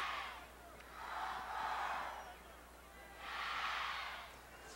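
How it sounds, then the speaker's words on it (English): A crowd at Homer Bryce Stadium in Nacogdoches roars at a college football game, with two broad swells of cheering rising and falling in the distance and no voices speaking over it. "the crowd begins to get into it here at Homer Brice Stadium in Nacogdoches"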